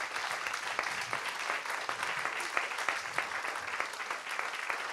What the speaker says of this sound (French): On applaudit encore bien fort nos soignants